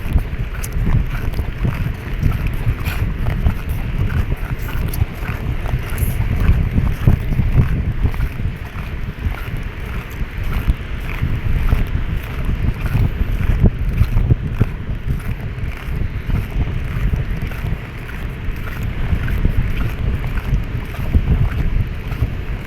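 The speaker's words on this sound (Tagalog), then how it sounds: "Lakas ng hangin." Heavy wind at sea batters the microphone nonstop while fishing from a boat, with a deep rumble and gusty crackle over the water throughout.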